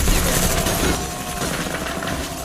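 Gunfire in a movie shootout scene, a dense, continuous barrage of shots blended into a loud roar of noise with no clear individual reports for the whole stretch.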